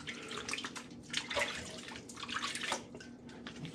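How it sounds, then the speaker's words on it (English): Water from a tap splashes unevenly while someone washes their face at a sink during a shave, with bursts of splashing and dripping close by. "Let me wash my face real quick"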